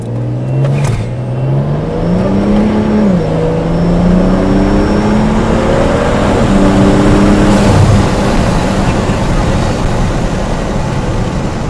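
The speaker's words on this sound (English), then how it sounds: "I'm going to do a dig to see how this car feels with full 85" A BMW 335i running full E85 with a stage 2 low-pressure fuel pump accelerates hard: loud, close engine roar climbing steadily in pitch, briefly dropping at two gear shifts before rising again, with no voices.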